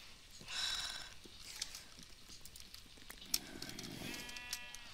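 Sheep bleat in a video game, a couple of short, wavering animal calls near the start and end, set over faint footstep-like patter and light background noise, with no talking.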